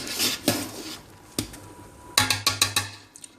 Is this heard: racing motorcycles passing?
no